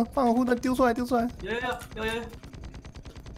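Rapid machine gun fire in a co-op video game rattles steadily as a fast string of evenly spaced shots, mostly under excited talking, then continuing alone near the end.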